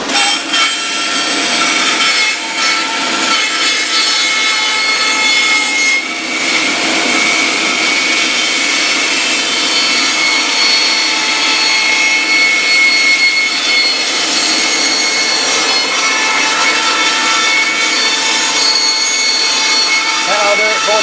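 A bandsaw cuts a 25-inch circle from a wooden tabletop with a loud, continuous roaring whine and rough rasping through the wood, holding steady throughout with small surges and dips.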